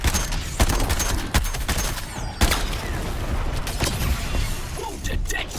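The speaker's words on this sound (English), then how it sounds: "Airstrike." Dense, continuous gunfire and explosive blasts from an airstrike in the video game Suicide Squad: Kill the Justice League, loud and close, with sharp bursts over a constant roar of battle.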